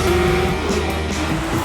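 Naturally aspirated V12 of a 2026 Ferrari 12Cilindri grumbling at steady, fairly loud level, a continuous low engine drone with a constant tone and no talking.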